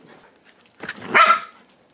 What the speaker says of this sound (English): Could you bark like a real dog and not be so high-pitched?